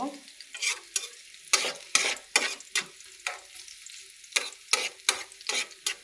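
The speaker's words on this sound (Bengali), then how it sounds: "আমি তেল এবং রসুন কুচি চুলে দিয়ে বসিয়ে দিলাম" Chopped garlic fries in hot oil for a tempering, crackling in a series of sharp, close bursts as a utensil stirs the pan in an irregular rhythm.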